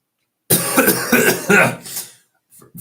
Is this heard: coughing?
yes